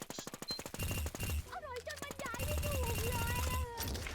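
Rapid automatic gunfire in a video game fires in quick bursts, with a tonal in-game effect and a short pause in the middle, and a voice talks over it.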